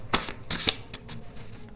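A deck of oracle-style cards is shuffled up close, with a few quick riffling bursts in succession and no talking.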